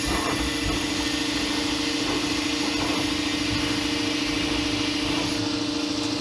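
VEVOR 5-ton air lifting jack raising a vehicle: a constant loud, close hiss of rushing compressed air with a steady tonal hum underneath, unbroken throughout.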